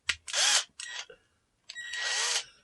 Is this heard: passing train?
no